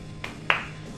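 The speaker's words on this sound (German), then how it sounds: "Kannst du mal klatschen?" Two sharp hand claps, a light one then a louder one, close and clear against quiet room tone, used as a sync marker for an audio recording test.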